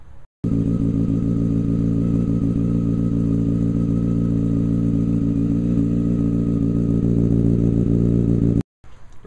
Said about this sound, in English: put it back together and run it, and show you what it's like with the baffle out